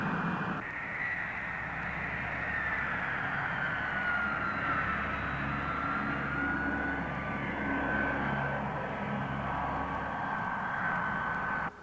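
Airliner engines idle steadily on a parking stand before shutdown, a continuous broad roar with a faint whining tone drifting through it, loud and close and holding evenly the whole time.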